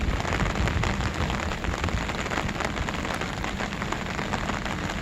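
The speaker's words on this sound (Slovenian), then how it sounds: "Pa še stopnjuje dež." Heavy rain intensifying over a flooding lake at Šoštanj, a dense steady hiss of drops pattering on surfaces, loud and close, with no talking.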